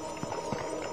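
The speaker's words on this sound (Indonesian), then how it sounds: "Suaranya kedengaran banget loh itu babi" Pig running in the horror video game Dreadout, a rapid clattering trot of footfalls, two heavier thumps standing out over a steady game ambience.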